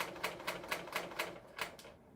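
A serger sewing machine trims fabric and zipper tape in rapid, evenly spaced mechanical bursts, about four per second, close and moderately loud, before stopping abruptly.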